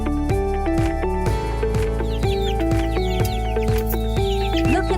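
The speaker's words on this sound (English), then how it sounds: "Look at the mother hen with her chicks." A mother hen clucks with her chicks nearby, steady rhythmic clucking repeating over a busy barnyard background with higher peeps and calls layered on top.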